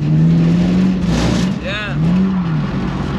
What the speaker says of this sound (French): Petit coup de gaz sec.